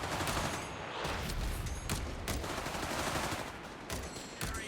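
Machine gun fire in the real-time strategy game Company of Heroes 3, dense rapid bursts of battlefield gunfire running throughout, loud and continuous with sharper individual cracks.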